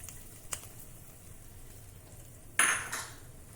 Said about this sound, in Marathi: ही तयार फोडणी आता ह्या चटणीवर घालू।